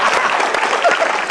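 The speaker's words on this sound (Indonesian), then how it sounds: "Tepuk tangan buat Metro TV." A crowd applauds at an Indonesian stand-up comedy show, a brief, loud and dense burst of clapping.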